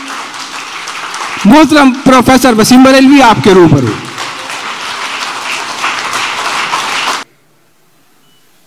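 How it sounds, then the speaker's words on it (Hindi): An audience at a mushaira in Jeddah breaks into sustained applause for the poet Wasim Barelvi, rising right after a man's spoken introduction and filling several seconds before cutting off. "जोरदार तालियों से इस्तकबाल कीजिए"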